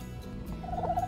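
An eastern wild turkey clucking and purring softly, heard close by as a few short clucks and a brief rolling purr over a quiet low background, with no voices.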